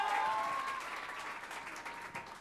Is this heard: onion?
no